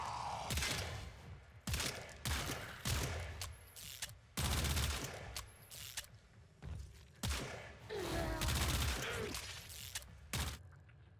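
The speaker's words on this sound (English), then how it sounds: "This pistol has an alt fire that'll empty the clip in a quick burst." Pandero pistol alt-fire in the Warframe video game, rapid bursts of sharp gunshots in several quick clusters with short gaps, mixed with in-game impact and mechanical sounds.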